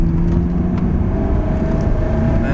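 A Ferrari 360 Spider's engine pulls under steady throttle through a left-hand bend, a loud, close, sustained drone with a slowly rising tone and no break.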